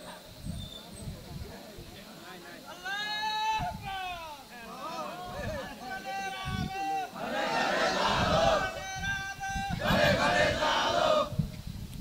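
A crowd at a Bengali Islamic sermon gathering chants the takbir in loud, ragged unison, harmonic shouting swelling in repeated waves over about twelve seconds, voices layering together.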